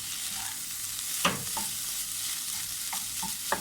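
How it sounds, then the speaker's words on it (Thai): Tom yum shrimp fried rice stir-fried in a pan after fish sauce is added, a steady sizzle broken by a few sharp scrapes and clinks of the spatula, close and alone without any voice. "ผัดให้เข้ากันนะคะ"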